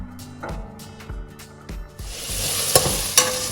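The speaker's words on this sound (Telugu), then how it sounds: "ఇప్పుడు ఇందులో మనం కట్ చేసుకున్న ఉల్లిపాయలు వేసేసుకుందాం మూడు రెమ్మల కరివేపాకు కూడా వేసుకుని ఫ్రై చేసుకుందాం" Chopped onions and three sprigs of curry leaves dropped into hot oil for Chettinad chicken: a few knocks and stirs at first, then a sudden loud, continuous sizzle with occasional sharp crackles, close by.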